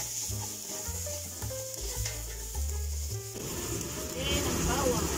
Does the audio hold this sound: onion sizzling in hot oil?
yes